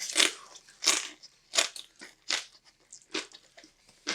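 Someone bites into crunchy fried rice noodles, producing sharp, close crunches in a steady series of about eight bites.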